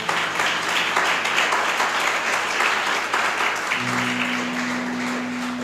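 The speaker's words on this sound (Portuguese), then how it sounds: "Você pode aplaudir ao Senhor, querido?" A church congregation applauds during a sermon, producing sustained, full-room clapping at an even level, with a steady low keyboard or organ tone entering partway through and continuing beneath the applause.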